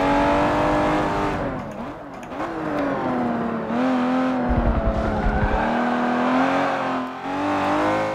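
A race car engine in Forza Motorsport 7 roars loud and close, its pitch climbing and dropping through gear changes and revs, with a brief rumble midway.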